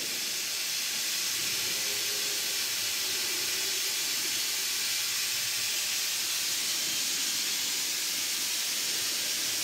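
Steady broadband hiss of steam from a laboratory boiler during a filmwise and dropwise condensation experiment, continuous and fairly faint throughout with no pauses.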